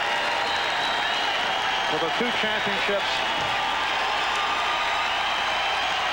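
A crowd of 21,000 at the Palace of Auburn Hills gives a standing ovation, applauding and roaring in a dense, continuous wash of noise while a commentator talks over it.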